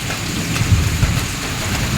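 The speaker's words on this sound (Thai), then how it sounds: "วันนี้ฝนตกนะครับ" Steady rain pouring down outdoors, a dense even hiss with low rumbling underneath, continuous and fairly loud with no voices.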